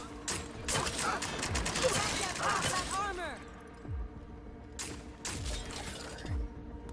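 A gun fires in The Outer Worlds, first in a rapid crackling burst with ringing metallic tails, then as several separate, spaced shots at moderate loudness.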